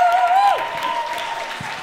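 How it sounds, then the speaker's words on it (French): A short stretch of cabaret audience applause, even and sustained, with a drawn-out cheer or whoop riding over the clapping at the beginning. "Un tonnerre d'applaudissements."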